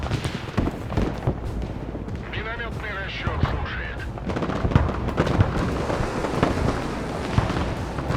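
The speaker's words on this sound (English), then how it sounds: "Another airstrike inbound." Airstrike explosions in the Broken Arrow war strategy game boom and crackle in a dense, continuous barrage of blasts and gunfire, with a voice talking faintly over the din.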